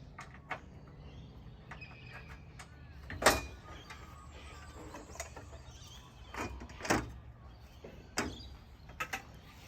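A series of metallic clicks and clunks, a key turning the latch and an Eagle Cherokee camper trailer door, which doubles as steps, swung open, with quiet rustling between.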